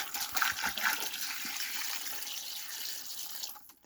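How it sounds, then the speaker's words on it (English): Water splashes and gurgles as it pours into an ice chest holding ice blocks, a steady rushing flow that cuts off abruptly at the end. "I'll even put some water, a little bit more water in that one"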